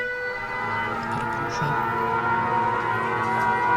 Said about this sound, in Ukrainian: Щойно звучить сигнал повітряної тривоги